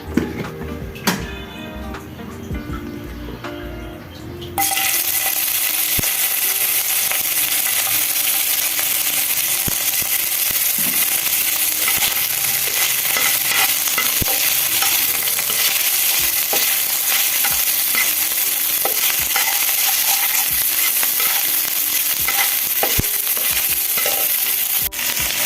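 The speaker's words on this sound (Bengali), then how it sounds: "এবার কড়াইয়ে অল্প পরিমাণে তেল দিয়ে" Boiled dried loitta fish (shutki) fries in a little oil in a wok, producing a loud, steady sizzle with occasional sharp taps and scrapes of stirring. A different, tonal sound plays for a few seconds before the frying starts, and no one talks.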